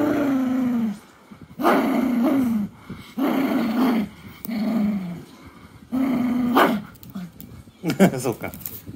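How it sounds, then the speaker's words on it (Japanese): A dog clutching a ball it wants thrown but won't release lets out a series of close, drawn-out growling whines in repeated bursts, with short pauses between them. "投げてほしいけどボールを離したくないワンちゃん。"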